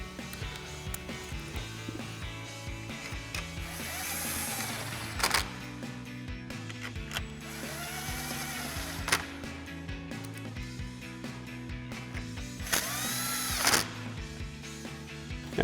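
A cordless impact wrench with a 10mm socket drives grille screws back into a 2021-2023 Ford Bronco, with several short bursts of whirring and rattling hammering separated by pauses, close by and moderately loud over a steady background hum.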